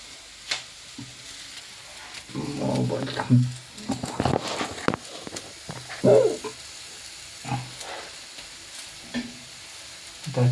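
Red onion fries in a pan, sizzling softly with bursts of stirring and clattering at irregular intervals, moderately close, with some faint voices.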